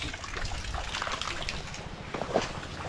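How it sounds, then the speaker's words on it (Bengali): Rainwater trickling and dribbling from a roof during heavy rain in a flooded area, a steady soft patter and drip of water running close by with no voices. "এখান থেকে ছাদের পানি পড়ছে"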